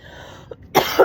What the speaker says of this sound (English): oh, excuse me, sudden urge to cough